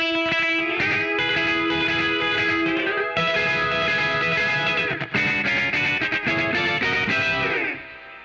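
Electric guitar through a Distortion Plus pedal plays sustained, gritty notes and chords, loud and buzzing, without talking, fading as the last chord rings out.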